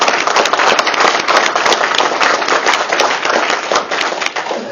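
A crowd at a reception with a mayor claps loudly and densely in sustained applause, a dense patter of hand claps heard close and continuous.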